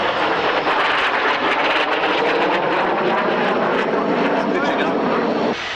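A Hawker Hunter jet roars past at the Kemble airshow, a loud, sustained broadband rush that holds steady then cuts off, with an announcer's voice over it.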